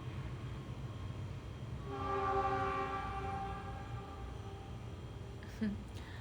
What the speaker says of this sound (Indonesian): Kereta api tututut